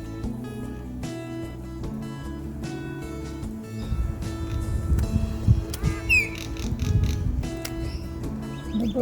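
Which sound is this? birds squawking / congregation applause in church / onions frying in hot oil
birds squawking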